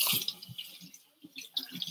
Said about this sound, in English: I should probably wash them first